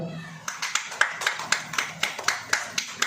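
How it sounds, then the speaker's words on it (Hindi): An audience claps in a steady, rhythmic beat of about four sharp claps per second, close and fairly loud, with a faint murmur of voices underneath. "आपको मालूम है वे नहीं आएंगे, ताली बजाओ।"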